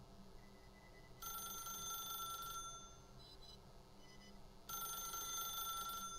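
Electronic telephone ringing in The Stanley Parable video game, two long shrill trilling rings with a pause between, even in volume over a faint background hum and no voices.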